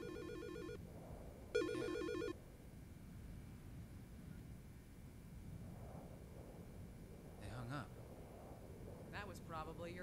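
A phone ringing in the video game Silent Hill: Shattered Memories, with short electronic ringtone bursts at the start and again a moment later, then fainter chirps further on under quiet background rumble and a spoken voice.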